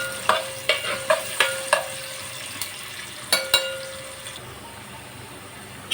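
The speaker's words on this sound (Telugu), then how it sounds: "ఉల్లిపాయ ముక్కలు ఫ్రై చేసుకుని" Onion slices fry in oil in a pan for a prawn biryani, a steady soft sizzle under a series of sharp metallic clinks and scrapes as a spoon stirs against the vessel, close and fairly loud.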